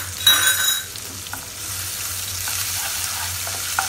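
Whole spices crackling in hot oil in a pan for a dhaba-style pulao, a steady bright sizzle with a louder burst of spatter at the start, then softer continuous frying with occasional pops.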